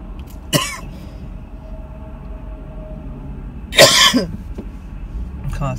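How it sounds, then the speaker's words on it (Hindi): Two separate coughs and throat clears, one early and a louder one near the end, from the driver inside a Hyundai Elantra in heavy traffic, over a steady low road hum with a faint voice. "खांसी आ जाती है भाई कभी कभी।"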